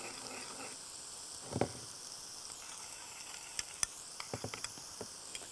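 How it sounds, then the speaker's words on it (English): A sauce for san choy bow sizzles gently in a pan, with a soft scrape of stirring followed by scattered small clicks and pops, quiet and close. "Give a little stir to the sauce."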